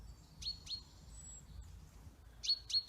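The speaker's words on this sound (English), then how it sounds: "The birds are actually coming in now while I'm they're used to me being here, and they're feeding while I'm here" Small wild birds coming in to feed give sharp, high chirps in two pairs, near and clear, over a quiet outdoor background.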